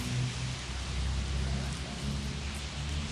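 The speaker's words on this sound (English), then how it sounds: "It's 21st of July and it's raining." Rain falls outdoors on a July day as a constant broadband hiss with a low rumble beneath it, steady and fairly loud with no talking.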